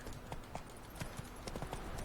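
Horse hooves clip-clop at a walk in The Witcher 3, a steady, fairly close run of light thuds and taps over a soft game background, with no voices.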